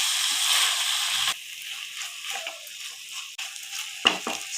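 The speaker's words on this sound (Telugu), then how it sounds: "పసుపు వేసుకొని మొత్తం కలిసేదాకా ఒకసారి కలుపుకున్నాము." Raw plantain pieces stirred with turmeric in a hot frying pan, a steady sizzle of frying under intermittent scraping stir strokes, loudest at the start, then quieter with a couple of sharp clatters near the end.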